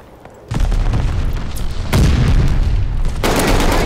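Video game battle with repeated heavy explosions, deep booming blasts erupting at about three moments and rumbling continuously between them, loud and close with no talk.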